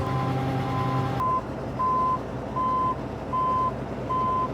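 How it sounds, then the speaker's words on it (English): A combine harvester gives off a steady, loud beeping in a regular on-off rhythm, clear against a low engine rumble, after a brief mechanical tone cuts out near the start. "I don't know why it's beeping."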